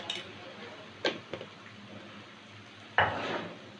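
Potatoes being stirred and sautéed in a pan for aloor dum, with a few clinking spoon scrapes against the metal over a faint background, the loudest stir near the end.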